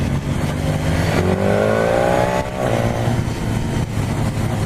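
A 2017 BMW S1000 R motorcycle pulls hard under acceleration, its engine note rising steadily and dropping briefly at quick-shifter gear changes, loud and close throughout.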